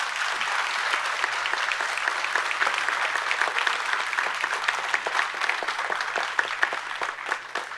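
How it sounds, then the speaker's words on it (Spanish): An auditorium audience at a transport industry conference gives sustained, dense applause for the transport operators, steady and even throughout with no voices over it. "les pido un aplauso para ellos"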